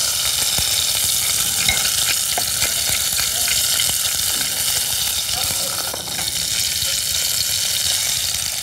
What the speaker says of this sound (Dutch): Ik ga hem in olijfolie klaarmaken. En dat mag een zeer hete pan zijn.